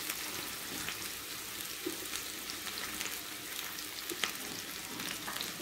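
Cut kochur loti, taro stolon vegetables, sizzle in a hot pan: a continuous crackling fry with scattered pops and light stirring, moderately close and without voices.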